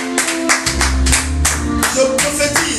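A church congregation applauding the Lord, with loud, quick, rhythmic clapping over music that carries on steadily throughout.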